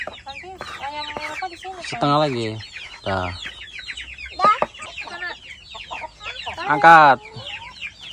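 Hens cluck and squawk near a coop door, repeated close calls rising and falling irregularly, with people talking in between.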